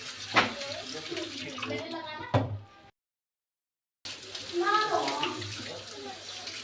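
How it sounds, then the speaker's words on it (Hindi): Running cold water splashes from a tap as carrots are rinsed, with someone talking over it and a short silent gap midway. "गाजर को खूब अच्छे से मैं इसे धो लूंगी"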